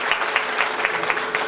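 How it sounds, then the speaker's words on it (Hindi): An audience claps steadily at a Shiv Mahapuran religious discourse, a dense, even patter of many hands with regular swells, loud and close with no voice over it. "जोरदारी से ताली लगावे भाई"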